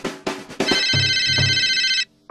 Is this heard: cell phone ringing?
yes